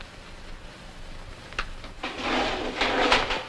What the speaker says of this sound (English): Pull out this drawer.